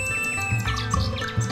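A nightingale sings in an animated folk tale about an emperor, with bright chirps and warbling calls sounding close and clear over a soft sustained musical background, and no talking.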